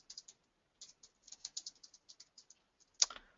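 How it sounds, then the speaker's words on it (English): Keys tapped on a computer keyboard in short bursts of light, close clicks with brief pauses, ending in one louder clack as a key is struck hard. "This one I always type it"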